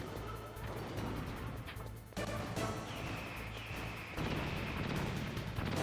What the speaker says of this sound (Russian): Тут есть бочки, которые взрываются.